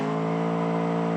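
A Ford Mustang TA2 race car in BeamNG.drive pulls away from a race start, its engine a loud, steady, tonal drone held throughout at close range.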